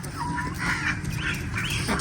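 Two pet ducks quack in short nasal bursts, several calls in quick succession, fairly close and loud.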